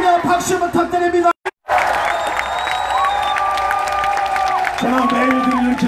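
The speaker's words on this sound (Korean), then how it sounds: "동의하시면 박수 부탁드립니다" Crowd at a conservative Christian protest rally clapping and cheering, loud and close with a short dropout early on, then continuing applause with scattered whoops.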